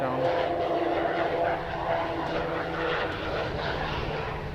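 An airliner touches down at Edmonton International Airport, a distant, steady engine roar and rushing drone that swells slightly and then holds, with a voice talking over it.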